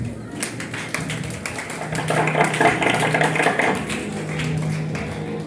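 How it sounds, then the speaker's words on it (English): A hall audience applauds after a graduation keynote speech, dense steady clapping swelling and then holding for several seconds, with faint voices underneath. "a round of applause for the director of Wisdom International School for a wonderful speech"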